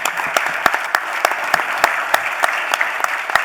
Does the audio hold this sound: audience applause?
yes